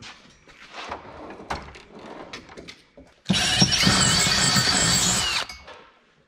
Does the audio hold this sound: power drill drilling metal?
yes